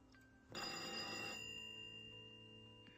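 A telephone bell rings once, a loud sustained metallic trill lasting under a second that then decays into a lingering hum in a quiet room.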